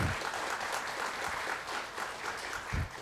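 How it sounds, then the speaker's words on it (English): Audience applause at a corporate HR meet rolls on evenly, a dense patter of many hands at moderate distance, with a couple of low thumps near the start and end. "So, round of applause for them."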